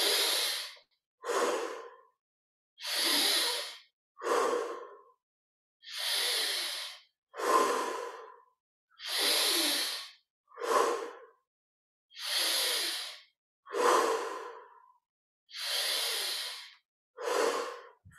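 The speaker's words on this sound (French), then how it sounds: "20 respirations profondes dans cette position. Inspire par le nez" Deep, slow breathing during a guided meditation: about twelve alternating breaths, inhaling through the nose and exhaling audibly through the mouth, each breath a close, airy rush of roughly a second with short pauses between, no talking.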